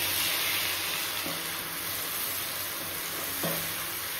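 Poppy seed and red chilli paste frying in hot oil with green chillies, turmeric and salt, giving a steady, close sizzle with a couple of faint stirring knocks.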